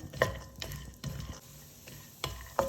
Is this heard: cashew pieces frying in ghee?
yes